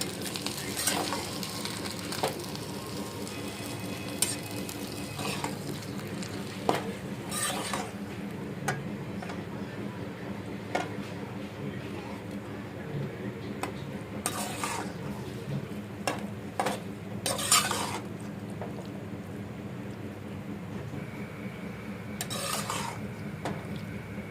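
Pasta sauce with added milk is stirred in a pan, with quiet scraping and occasional spoon taps against the pan over a faint, steady sizzle throughout.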